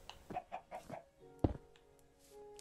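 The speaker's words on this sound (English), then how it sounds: "There's another freaking chicken" Short clucks of a chicken in the farming game Hug World, a few quick close calls in a row followed by one sharper squawk, with light game sounds trailing after.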